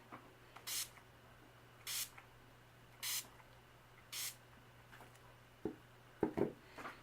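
An oil control setting spray is misted onto a face in four or five short, soft hissing bursts at even intervals, followed by a few faint handling sounds.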